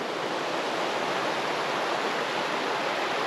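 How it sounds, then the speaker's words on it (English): A river rushes and pours continuously in a dense, steady hiss, close by and loud, with no other sounds. "a lot of water coming out"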